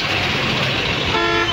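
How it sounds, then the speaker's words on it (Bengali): Car horns toot close by in a traffic jam near Nabinagar, with short blasts over the rumbling engines of cars and buses. "গাড়ির অনেক শব্দ হচ্ছে, কথাটা একটু আস্তে আসতে পারে"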